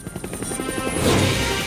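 Helicopter arriving with a rapid, pulsing rotor chop that grows louder and more forceful as it draws near, ending in a broad rushing roar; part of a toy dollhouse play scene.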